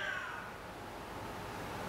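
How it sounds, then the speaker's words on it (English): A house cat meows once during a home yoga lunge session, a high tonal call near the start fading over a steady background hiss, with no talking. "That was my cat."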